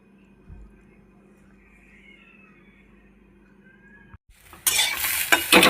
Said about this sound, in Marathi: त्याचे मी दाणे काढून घेतले आणि इथं मी ते भाजत आहे